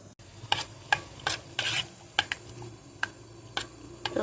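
Rose essence is stirred into a homemade soap mixture, making a run of separate scraping, tapping clicks as a spoon knocks against the container, about eight strokes in an uneven rhythm, close and fairly soft.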